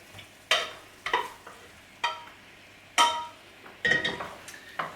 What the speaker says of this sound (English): So you can add the pasta to the mushrooms now.